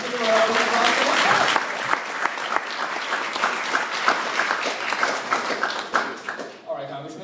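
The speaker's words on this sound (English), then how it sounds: "Let's give it a round of applause." Audience at a Young Republicans endorsement meeting applauds steadily for several seconds, a dense wash of clapping with scattered voices and cheers layered over it as it tapers off near the end.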